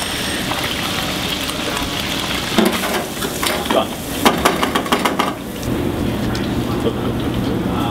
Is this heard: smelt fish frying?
yes